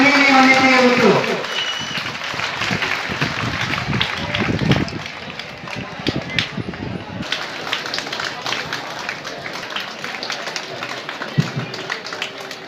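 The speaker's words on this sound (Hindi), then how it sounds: "तालियों की गड़गड़ाहट में कमी नहीं होनी चाहिए दोस्तों" Spectators at the opening of a block-level rural Olympic games applaud for a long stretch, dense clapping following a brief sung passage, with voices mixed in at moderate distance.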